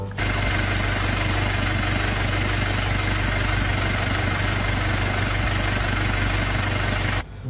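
A white ladder truck's engine idles in a steady, loud, unbroken rumble that holds throughout with no talking over it.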